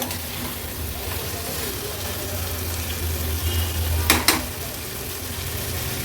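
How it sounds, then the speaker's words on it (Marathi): Field beans and potato sauté in spice masala with a steady low sizzle and faint stirring, plus two brief sharp clinks of a utensil against the pan near the end. "व्यवस्थित हे पावट्याचे दाणे आणि बटाटा मसाल्यावर परतून घेऊया।"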